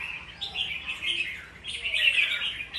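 Red-whiskered bulbuls kept in cages chirp in bright, quick bursts, two clusters of close, fairly clear calls separated by a brief lull, with no speech.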